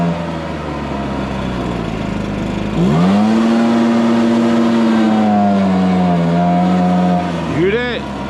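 A Stihl BR430 backpack blower with a power-loss fault drones steadily, then is throttled up to a loud, high, close whine. The pitch sags and wavers as the engine bogs down, and it ends with a brief sharp rev blip near the end.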